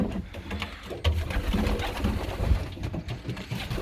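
Young hatchling pigeons and chicks coo and murmur softly in a nest, low throaty burbling calls repeating irregularly at close range with faint rustling between them.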